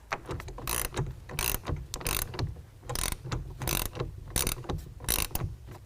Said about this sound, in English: Now we're going to take a 9/16 wrench or ratchet and tighten this down